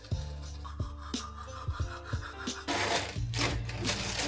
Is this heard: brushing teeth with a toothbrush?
yes